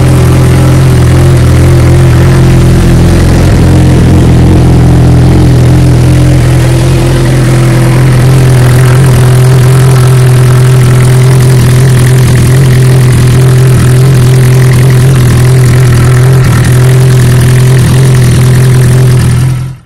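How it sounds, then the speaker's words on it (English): Suzuki GSX-R 1000 motorcycle (2009–2016) idling after an oil change, a loud, steady low engine hum close by with a constant pitch that holds for about twenty seconds. "you want to start your bike. Let it run for a little bit."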